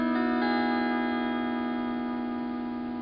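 Pedal steel guitar strings ring with the right knee lever engaged, a smooth, sustained chord that holds clearly and decays slowly, alone and close.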